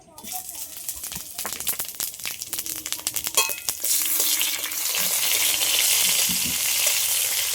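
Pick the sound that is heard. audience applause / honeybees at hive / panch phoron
panch phoron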